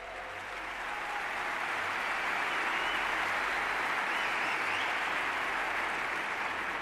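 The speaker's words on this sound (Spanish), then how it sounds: "¿Os dais cuenta cómo ha aplaudido la gente cuando ha hecho de la propiedad?" Audience at the Madrid Economic Forum bursts into sustained applause, a dense wash of many hands clapping that swells within the first second and holds steady and loud throughout, with no voices on top.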